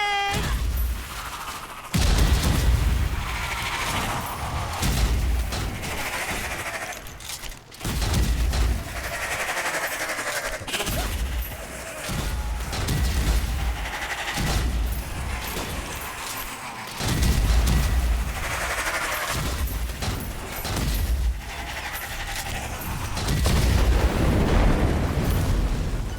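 Bomb blasts in the co-op action game Strange Brigade, a run of loud booming bursts with rumbling low end, repeated every few seconds over a dense layer of game noise and music.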